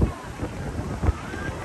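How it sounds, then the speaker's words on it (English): Wind at the Disneyland Pixar Pier buffets the microphone in low, rumbling gusts, a brief loud burst of near, close thumping rather than distant sound, with no talk. "It has been a breezy day out at the park today. I hope that it hasn't affected audio too much."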